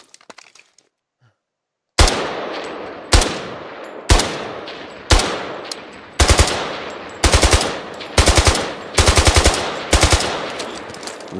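Rifle fire from an MPT 76 chambered in 7.62x51 with a 20-round magazine in the video game Squad. Loud, sharp shots begin after a short quiet stretch. Single cracks at first, then quick bursts of three or four rounds, each trailing off in a reverberant tail.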